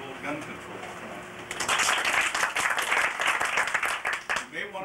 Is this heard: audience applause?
yes